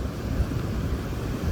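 Sea waves at Bluewater Island beach, a steady wash of surf blended with wind buffeting the microphone, continuous and fairly close.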